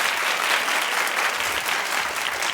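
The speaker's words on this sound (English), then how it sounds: "Clap if you remember." A studio audience at a daytime talk show claps loudly and steadily, a dense continuous patter filling the room with no pause and no talk over it.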